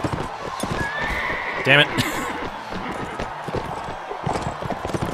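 Horses in a Mount & Blade: Warband battle gallop with rapid clip-clop hoofbeats, and one brief loud neigh rises partway through, all under a man's speech.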